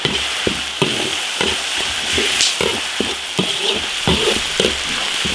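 Garlic, chili paste, Sichuan pepper and dried chilies stir-fried in hot oil in an iron wok, a dense steady sizzle broken by repeated sharp scraping strokes of the spatula, loud and close, with no talking.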